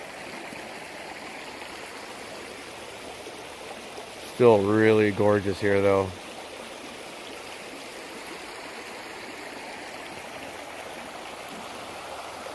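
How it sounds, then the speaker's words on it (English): A stream runs over bedrock in a steady, broad rushing wash that continues throughout, while a person briefly speaks over it near the middle. "significant difference to the way this water's running right now."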